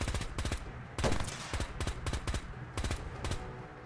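Bursts of gunfire from a hard-kicking weapon in Fallout 4 ring out in quick irregular volleys, some single shots and some rapid strings, fairly loud and dry with no talking.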